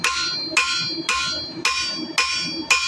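A hammer strikes a copper arrowhead on an anvil six times at an even, steady rhythm, each blow a loud, bright metallic ring that decays between hits.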